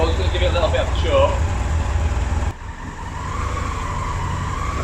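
A restored Yamaha R1 5JJ motorcycle engine idles steadily on choke just after starting, a constant low rumble that drops slightly halfway through, with someone talking over it.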